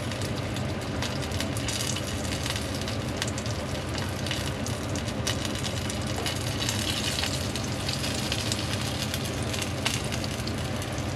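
Gyoza dumplings frying in oil in a pan while being cooked Japanese style, a steady dense sizzle with crackling pops running throughout, close and even, with no talking.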